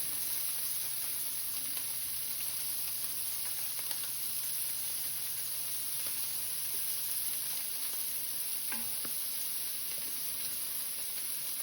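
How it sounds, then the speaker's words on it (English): Cheese frying lightly on one side in a home kitchen pan gives a steady, soft sizzling hiss throughout, with a faint low hum in the first part and a couple of small clicks near the end. "I'm going to take this cheese and fry it lightly on one side."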